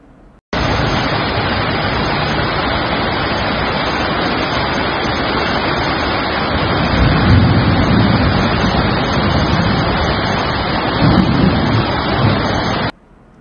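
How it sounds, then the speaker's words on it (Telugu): Heavy rain in Kondapur, Hyderabad, flooding the roads: a loud, continuous broadband roar of downpour that starts abruptly and holds steady, with no voices. "హైదరాబాద్ కొండాపూర్లో భారీ వర్షానికి జలమయమైన రోడ్లు."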